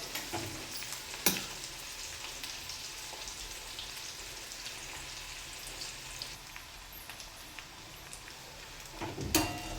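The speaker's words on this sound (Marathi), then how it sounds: "कांदा थोडासा गुलाबी होऊ द्यायचा आहे. जास्त पण नाही फ्राय करायचा" Chopped onion frying in a pan for a dried bombil fish curry, a steady broadband sizzle throughout with a couple of sharp utensil clicks near the start and end.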